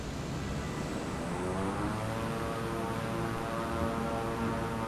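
A simulated Beechcraft propeller plane holds full throttle on its takeoff run, a steady droning engine roar with a faint whine layered on top, even and unbroken throughout.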